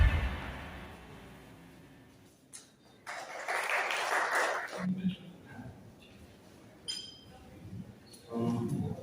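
Audience applause at a press conference as four gentlemen light a ceremonial diya, a dense burst of clapping swelling for a couple of seconds amid murmuring voices and scattered clinks, then fading back under talk.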